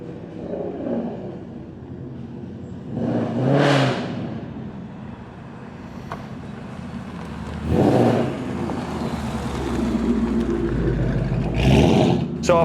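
A Stage 3 MAP-tuned Mustang muscle car rated at over 500 bhp idles with a rough rumble, broken by three loud, short revs spaced a few seconds apart, each flaring up and falling back.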